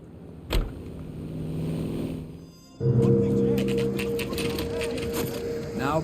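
A car engine droning steadily while driving in the game L.A. Noire, a low continuous hum that drops away briefly and returns stronger with a rising tone, with a sharp knock near the start.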